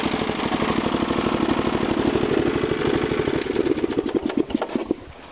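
A 1981 Briggs and Stratton 11 hp tractor engine idles with a steady, rapid chugging pulse, close and loud, before slowing and sputtering toward the end.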